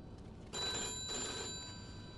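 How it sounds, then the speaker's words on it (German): An old telephone bell rings in the video game Mafia 2, a bright metallic trill sounding in two bursts at low volume, with no speech over it. "Telefon, okay, hier."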